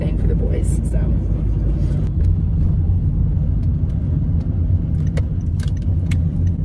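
A car drives along with something apparently dragging underneath, giving a steady, close, continuous low road rumble with faint scraping and rattling on top throughout.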